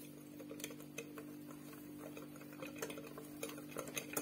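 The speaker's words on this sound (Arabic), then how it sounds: "كنزيد فيه شويه بشويه حتى نخلط." A spoon clicks and scrapes against a bowl while cake batter is stirred as liquid is added little by little, with irregular close taps over a low steady hum.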